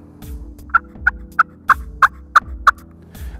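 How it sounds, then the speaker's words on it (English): A soft, clean hen yelp on a turkey call, worked with gentle pressure on the lid. Seven evenly spaced, nasal notes rise in a steady run, close and clear over a low background hum. "it's just got the sound of a real clean hen yelp"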